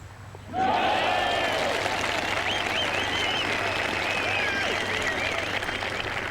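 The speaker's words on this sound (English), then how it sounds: "Listen for the cheer." A golf gallery at the 1995 Volvo Scandinavian Masters erupts in applause and cheering after a brief quiet spell, the sustained crowd noise mixed with whoops and shouts, some distant.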